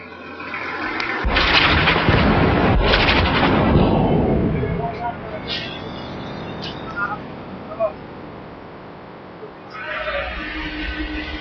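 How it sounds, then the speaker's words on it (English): Incoming Indian artillery rounds hurtle overhead at a high-altitude Siachen glacier position, with loud rushing blasts and booms early on, then quieter rumbling and scattered distant cracks before another loud burst. "As we depart, the first rounds come hurtling overhead."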